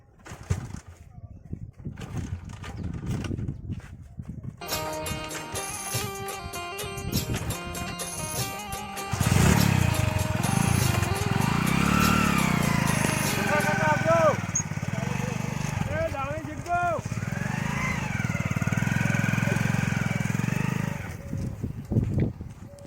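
A new motorbike's engine runs with a steady, droning idle that holds for several seconds, close by, while people talk over it.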